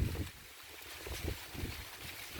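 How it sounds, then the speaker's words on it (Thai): Wind gusts over a corn field in a steady, close rush of broadband noise, buffeting the microphone in uneven swells. "ลมก็เป็นอย่างนี้นะครับ"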